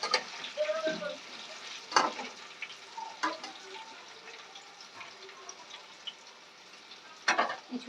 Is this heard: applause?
no